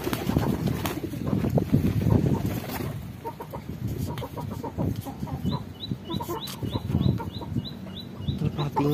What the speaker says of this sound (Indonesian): Ini merpati umbaran